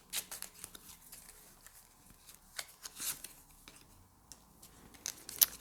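A Lenormand tarot deck being shuffled, giving quiet, irregular card riffles and flicks with brief crisp bursts and one sharper snap near the end, heard close in a quiet room.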